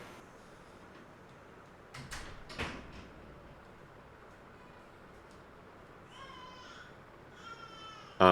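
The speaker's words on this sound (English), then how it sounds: "There is no sort of voice accompanying the knocking on wood. It is just loud knocking." A few sharp knocks on a wooden room door land close together, set against a quiet room, followed by faint tonal sounds and a sudden loud burst at the very end.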